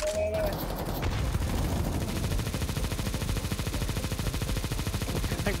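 Relentless automatic gunfire in Counter-Strike, dense overlapping rapid shots filling the whole stretch, loud and close with a brief sharper burst at the start.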